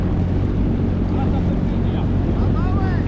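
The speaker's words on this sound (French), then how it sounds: "on va y aller au ralenti moteur" A Yamaha FX SVHO 2021 jet ski engine idles on the lake at Dienville, a loud, steady low rumble with wind buffeting the microphone throughout and a voice speaking over it.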